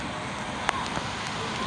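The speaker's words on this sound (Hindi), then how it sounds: "बहुत ज़्यादा तेज़ बारिश हो रही है।" Heavy rain pours down in Karachi as a steady, dense hiss that stays even from start to finish, with a few faint taps and clicks on top.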